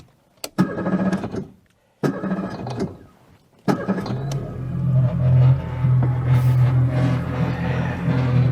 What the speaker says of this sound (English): Pump up a little gas and see if it starts.